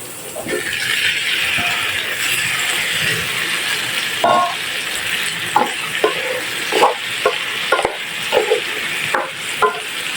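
Pieces of chicken hitting a hot pot with onions, a loud, steady sizzle of frying, overlaid by intermittent stirring scrapes and clinks toward the end.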